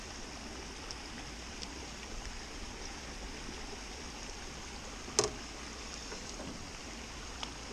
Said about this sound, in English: Little waterfall coming in.